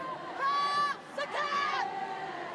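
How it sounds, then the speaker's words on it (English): Rugby crowd at a Scotland Women v France Women Six Nations match singing Flower of Scotland, a loud, sustained mass of voices holding long sung notes with a brief dip midway. "Constant crowd break into a rendition of Flower of Scotland"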